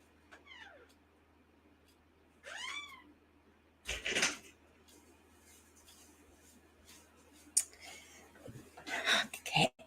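A cat meows several times at night, short rising and falling calls spaced apart, with brief louder rustling and knocking bursts between them against a quiet background.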